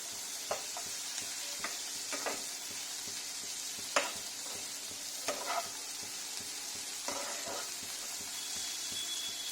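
Green chilies frying with onion in a little butter in a pan, a steady bright sizzle with occasional sharper pops and stirring scrapes, close and alone.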